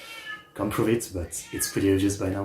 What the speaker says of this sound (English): Sorry about the cat, by the way.